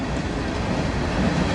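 A freight train passes at Daggett, its rear DPU unit, a Tier 4 locomotive, rumbling by with a steady, dense roll of wheels and rail noise, loud and continuous for the whole moment.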